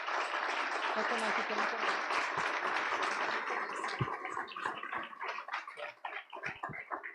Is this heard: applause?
yes